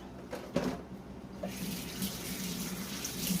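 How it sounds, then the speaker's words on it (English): Hands rinsed under a running kitchen tap, a steady close splash of water with small bursts as the hands move through the stream, no voices. "Just give my hands a rinse again."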